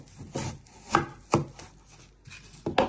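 A knife chops through an onion on a board in a few separate, distinct strokes, close and crisp, with quiet pauses between cuts and no talking.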